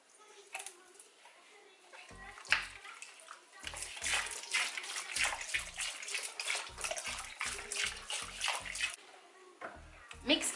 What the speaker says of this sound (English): So I'm going to add the vinegar now.